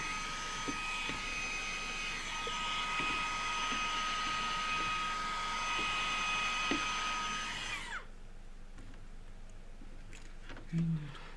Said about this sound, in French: Un léger passage à l'aspirateur élimine les copeaux.